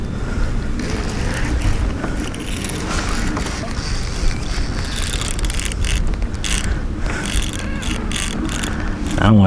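Fishing reel drag clicking steadily as a large bull redfish pulls line from a kayak, a rapid ratcheting chatter that runs close and loud throughout over water and wind noise.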